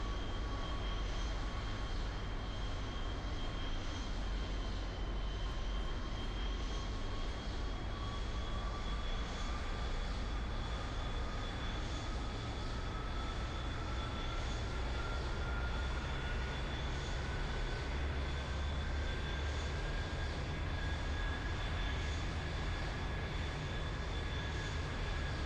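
An aircraft engine drones at throttle in Kerbal Space Program, a steady loud roar with a slowly rising whine that holds unbroken throughout, no talking over it.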